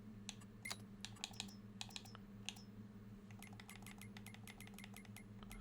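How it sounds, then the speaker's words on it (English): Game controller buttons click and tap on a console while playing Farming Simulator 22, quick irregular bursts of small plastic clicks, faint and close over a low steady hum. "I'm playing on console if you can't hear the buttons clicking"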